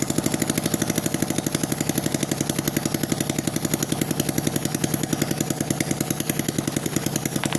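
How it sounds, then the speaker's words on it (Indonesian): A Yamaha Jupiter Z1 motorcycle engine idles steadily nearby, its rapid even putter pulsing throughout without any voices. "Nah, motornya sudah menyala, teman-teman."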